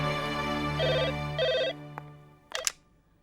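A telephone rings at home with two bursts of a warbling electronic ringtone, followed by a click and a short clatter as the handset is picked up.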